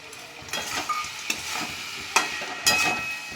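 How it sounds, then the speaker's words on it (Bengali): Amla pickle with julienned ginger and jaggery is stirred in a pan, a soft sizzle underneath several distinct scraping strokes of a spoon, close and fairly quiet. "দিয়ে এবার ভালো করে নাড়াচাড়া করে নিচ্ছি"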